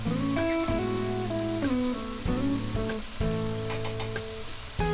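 Mushrooms frying in a pan with crushed black pepper, dark soy sauce, salt and a stock cube, a steady sizzle heard under a loud, bright music track with no talking.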